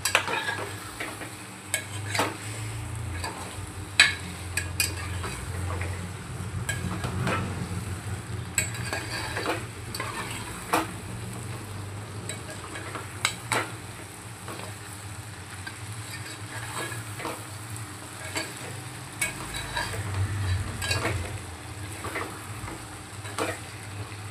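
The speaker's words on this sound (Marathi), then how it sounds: "2 ते 3 मिनिटं छान आपल्याला हे मसाल्यामध्ये परतून घेऊया आपण." Chicken sautés in masala with a steady soft sizzle, while a spoon repeatedly scrapes and taps the pan in an uneven rhythm throughout.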